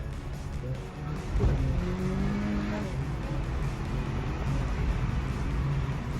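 A tuned Skoda Octavia 1.8 TSI at stage 1 accelerating hard at full throttle, a steady loud engine drone with rising pull heard from inside the car, continuous for several seconds.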